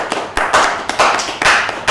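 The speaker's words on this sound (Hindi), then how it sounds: "तो उसके लिए तालियां।" Children in an audience at an Independence Day (14 August) school program clap together, a loud burst of dense applause that swells in several waves over a couple of seconds with no voices on top.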